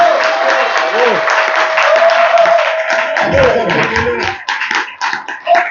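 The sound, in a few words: audience applause for exhibitors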